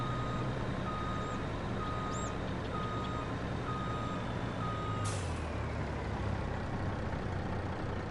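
Truck reversing beeps in the Farming Simulator 22 video game: a steady series of evenly spaced electronic beeps over a continuous low engine rumble, with a brief hiss of air brakes partway through.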